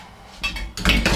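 An empty metal pan clatters down onto a gas stove grate, a short clanking contact followed by a second ringing knock, close and loud.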